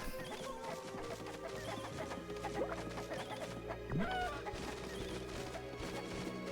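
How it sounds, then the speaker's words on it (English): Chickens cluck in the video game Okami, with short bird-like calls scattered over steady, busy game music that plays throughout. "we can pick the little chickens up"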